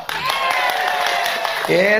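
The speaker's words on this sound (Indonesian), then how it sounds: "Tepuk tangan dia" Indoor audience clapping for Ganjar Pranowo in a steady, fairly loud patter of many hands, with a voice talking over the applause near the end.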